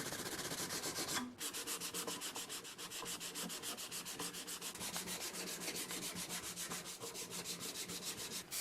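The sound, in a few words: sanding wooden knife blade and handle with fine grit paper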